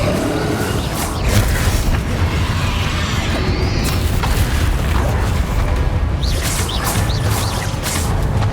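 A Bombarda blasting spell in the Hogwarts Legacy video game sets off a loud, dense explosive blast with rumbling booms and whooshing debris that fill the whole stretch continuously.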